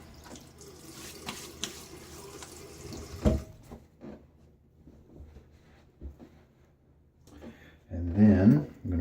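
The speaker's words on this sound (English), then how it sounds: "so let's splash my face with a little bit of water." Water from a running bathroom sink tap splashes onto a face before a wet shave, a short splashy burst near the end that follows quieter handling noises.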